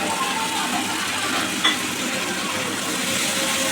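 Turmeric, Kashmiri chili powder and kasuri methi sautéing together in a pan for a vegetarian cauliflower curry, a steady close sizzle and hiss with one brief stir or scrape midway.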